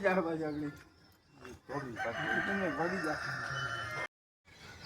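A rooster crows at a cow shelter (gaushala) in Jamwali, its repeated wavering calls fairly close and mixed with people talking nearby.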